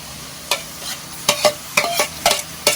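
Crickets being stir-fried in a pan make repeated sharp scraping strokes of the utensil with a light rattling sizzle in between, close and fairly loud.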